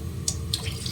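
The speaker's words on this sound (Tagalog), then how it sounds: "Maglagay tayo ng tubig." Water running from a tap into a pan for cooking sotanghon, a steady close splashing pour with a few brighter splashes and no talk.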